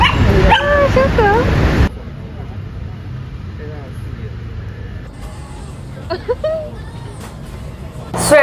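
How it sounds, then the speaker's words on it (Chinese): Several small dogs in Taipei yip and whimper in high, bending cries, loud and close at first and then quieter and sporadic, with talking and background noise around them. "都很可爱，好多小狗狗哟。"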